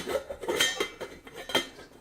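Stainless steel camping pots and a frying pan clink and clatter in a handful of sharp, bright knocks, close by, with brief pauses between the contacts.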